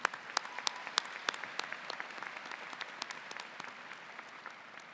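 Applause for a soloist at a 2024 Michigan Engineering graduate student ceremony: a large audience claps steadily, with a few sharper claps standing out at first, then thinning into a moderate, even patter.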